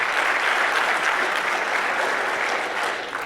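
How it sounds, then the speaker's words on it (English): Dense audience applause at a game design conference talk, a steady wash of many hands clapping close and loud, holding for several seconds before easing slightly at the end. "you guys all deserve a round of applause for how amazing you are"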